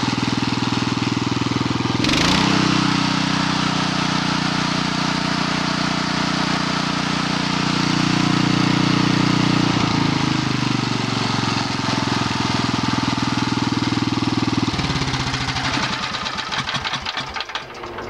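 A John Deere tractor engine, started after sitting unused for months, runs at a steady idle in a shop with a loud, continuous low chugging that holds for the full length before wavering slightly near the end.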